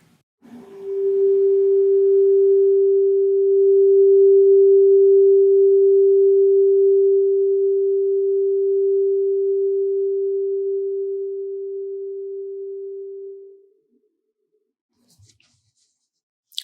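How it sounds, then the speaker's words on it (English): A 396 hertz tuning fork rings as one steady, pure, clear tone for about thirteen seconds, then stops, leaving near silence with a faint click at the end. "So now I am going to play for you the 396 hertz tuning fork."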